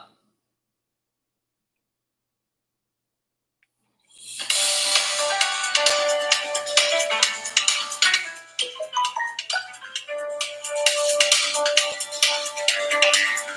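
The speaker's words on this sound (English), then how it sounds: "I think somebody else is trying to call." A phone ringtone for an incoming call starts after several seconds of silence, then plays loud and steady with a bright chiming, clicking melody that repeats until the end.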